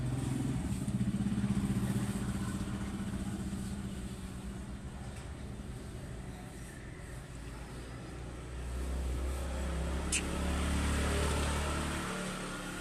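Vehicles pass by on a road, a continuous rumble of engines that swells and fades as cars and motorcycles go past, moderately loud and fairly near.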